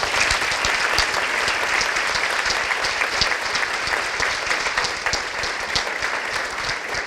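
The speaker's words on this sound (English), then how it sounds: "So these folks deserve a round of applause." Sustained audience applause for child and adult protection workers at a county state-of-the-county address, a dense, steady roar of many hands clapping throughout without letting up.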